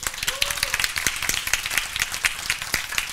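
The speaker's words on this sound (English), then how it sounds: "thank you very much for clapping for a very dirty hack" Audience clapping at a Godot game engine conference talk, uneven and moderately close, with sharp individual claps scattered through a lighter patter of the crowd.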